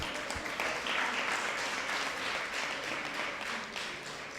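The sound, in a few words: audience round of applause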